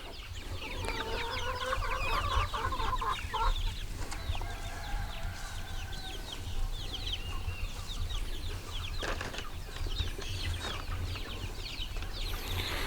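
Adult breeder chickens cluck and chatter in an outdoor brooder pen, a busy overlapping chorus of close, repeated clucks and calls with occasional rustling and wing movement over steady background noise.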